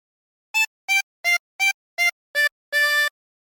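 Seven separate chromatic harmonica notes play the Squid Game theme phrase, six short evenly spaced tones followed by one longer held note, clear and alone against silence.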